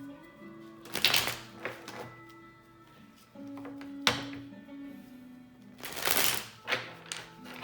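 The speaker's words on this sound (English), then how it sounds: "Got a couple more shuffles" Several bursts of crisp tarot card shuffling, riffling and flicking, with soft taps and thumps between them and a steady low hum underneath.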